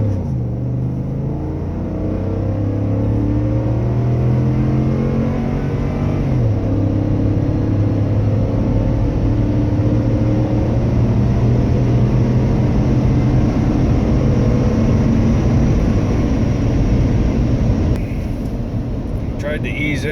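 Ford F-150 truck accelerating hard from a standstill on a 0 to 60 run, a loud steady engine drone rising in pitch as revs climb, heard from inside the cab with a brief shift partway through.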